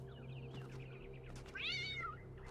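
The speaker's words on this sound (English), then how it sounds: "it's the white kitty. I haven't seen this one." A white cat in the video game The Talos Principle II lets out a clear, drawn-out meow, rising and falling over about half a second, preceded by softer chirpy mews over a steady low ambient hum.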